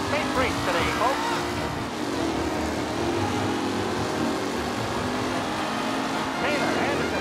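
Race cars from the 1930s-era Mafia Definitive Edition, engines droning steadily and loudly throughout, several motors blending into a continuous roar with occasional passing swells.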